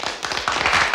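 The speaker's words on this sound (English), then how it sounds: "I only have one applause drop." A short canned applause sound effect: a brief, close burst of dense clapping that swells slightly before cutting off.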